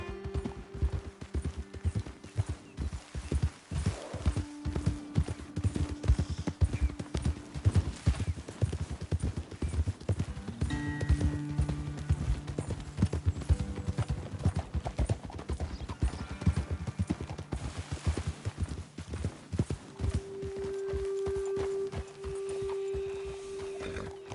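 Horse hooves clip-clop steadily at a walking pace throughout in the video game Red Dead Redemption 2, with an occasional snort or whinny over a faint background.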